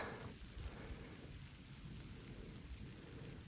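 Light rain falls steadily in the Carpathian mountains, a faint, even hiss of patter with no voices.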